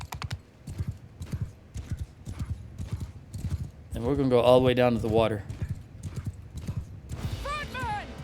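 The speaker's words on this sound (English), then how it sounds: "We're going to get the horses across." Horses in the video game Mount & Blade II Bannerlord, steady clip-clop of hooves trotting close and throughout, with a loud whinny in the middle and another neigh near the end, under someone talking.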